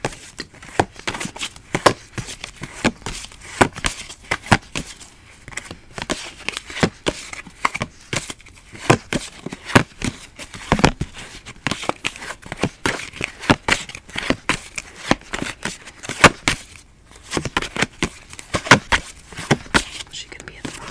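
Tarot cards are shuffled and handled up close in a quiet ASMR setting, a busy run of crisp flicks, snaps and riffles with irregular soft rustling between them.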